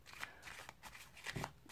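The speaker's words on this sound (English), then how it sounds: "Basically, a lot of shuffling." Playing cards are shuffled during a close-up card trick, soft riffling and sliding bursts repeating in a quick, uneven rhythm, quiet and alone.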